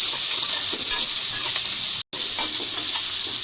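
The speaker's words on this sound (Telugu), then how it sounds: "ఆనియన్స్ అయితే వేగిపోయాయి" Chopped onion and green chilies frying in a pan for a vegetable khichdi, a steady close sizzle and hiss with light stirring scrapes, loud and continuous apart from one brief dropout.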